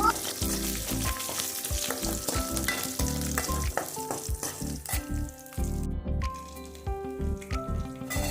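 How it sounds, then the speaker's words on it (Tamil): Spices, garlic and rice fry in groundnut oil in a pan over a low flame, a loud, close, continuous sizzle broken by scraping and stirring sounds, with no one talking. "அடுப்பை சிம்மில் வச்சுட்டு இதை வதக்கி விட்டுட்டே இருக்கலாம்."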